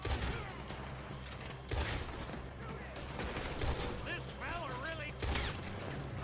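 Gunfights in Red Dead Redemption 2 with repeated loud shots in bursts over a busy mix of game sounds and some voices.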